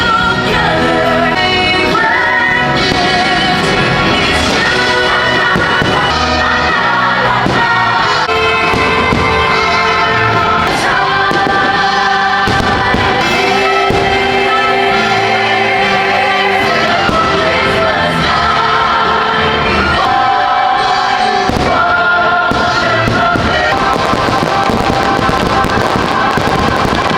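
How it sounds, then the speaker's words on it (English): Fireworks bursting at a Christmas party at Disney's Magic Kingdom, with continuous loud booms and crackles layered over music and crowd noise for the whole stretch. "before I got interrupted by the fireworks"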